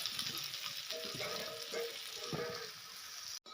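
Panch phoron (five-spice seeds) frying in hot oil gives a quiet, steady sizzle, with scattered crackles and pops throughout.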